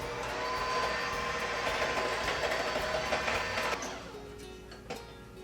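An electric mixer on high speed whisking sugar in a bowl, giving a steady loud whirring drone that eases and changes pitch near the end, close by with no talking.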